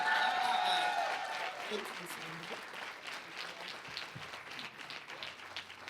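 A school-district crowd gives a standing welcome to the superintendent at a state of the schools address; soft, distant applause swells at first, then thins into a lighter patter as voices murmur over it.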